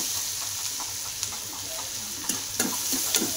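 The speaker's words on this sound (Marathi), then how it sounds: "त्याला चांगलं परतून घे, पूर्ण लाल होत." Slit green chillies fry in a pan with a soft, steady sizzle broken by a few light stirring clicks and scrapes, heard close up and without talk.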